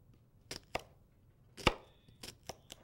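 A knife chops shallots on a board in a handful of sharp, close, irregular knocks, quiet and without talking.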